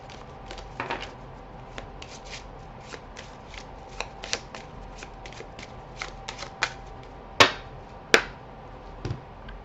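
Tarot cards riffled and shuffled by hand before a Celtic cross spread, a steady papery patter with a few sharper snaps of cards near the end, close and alone without talk.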